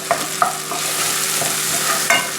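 Onions sizzling in a pan as they reduce, a continuous bright frying hiss broken by a few soft knocks of stirring, close and fairly loud with no talking.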